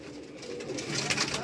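An aged Kasuri pigeon on a rooftop in Karachi coos softly and close, a brief low murmur with faint background noise.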